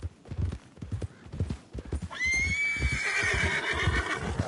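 Horse hooves clip-clop at a steady walking rhythm in Red Dead Redemption 2, then a loud, long whinny rises over the footsteps, with faint talk in the background.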